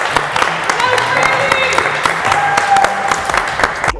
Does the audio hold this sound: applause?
yes